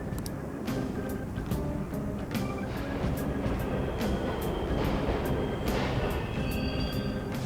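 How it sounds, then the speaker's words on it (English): A video-game subway train rumbles steadily along the tracks with rhythmic clicks and occasional metallic squeals, a continuous underground roar without speech. "The trains are totally running!"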